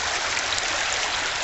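A creek running through a valley along the Buffalo River Trail, a steady close rushing and trickling of water that holds evenly throughout, with no voices.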